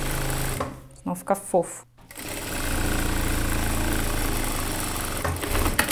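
A sewing machine topstitches along a fabric edge, a steady close whirring hum running for several seconds after a short stretch of speech.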